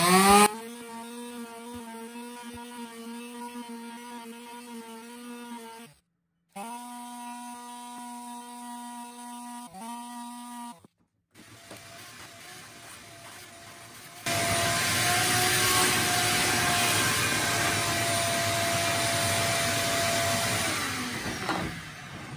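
A palm sander works on cured epoxy drink coasters, first a tonal motor hum broken by two brief pauses, then a steady, loud broadband sanding roar that holds to the end, with no talking.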